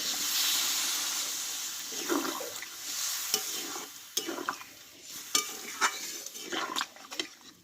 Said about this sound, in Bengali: এবার আমি পরিমাণ মতো জলটা দিয়ে দেবো